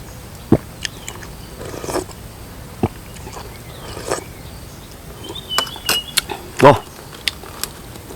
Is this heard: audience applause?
no